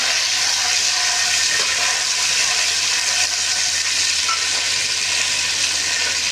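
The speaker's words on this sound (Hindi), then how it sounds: "हमने तेल गरम कर लिया है, इसमें शामिल करेंगे अपना लहसुन," Steady, loud sizzling of garlic frying in hot oil, a constant hiss without pause.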